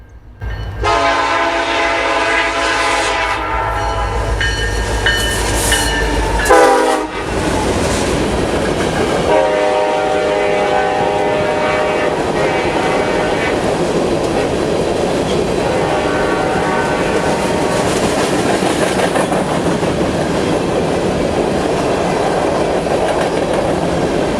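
A westbound sand train on the Whitehall line passes close by near milepost 158, its horn blaring in long blasts at the start, then wheels clattering over rail joints in a steady rolling rumble that continues loud to the end.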